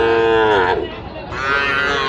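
Cattle at a livestock market where Sahiwal bull calves are sold, with a loud, close, drawn-out moo that swells, dips briefly, then rises again over a faint background murmur.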